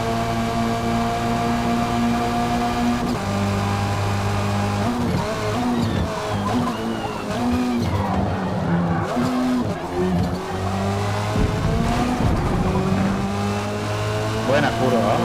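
A tuned 2008 Mitsubishi Lancer Evolution X GSR four-cylinder revving hard near 7500 rpm in a racing game, a steady loud engine drone with shifting pitch and tire squeal, a voice talking over it throughout.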